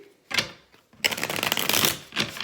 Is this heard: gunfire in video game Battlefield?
no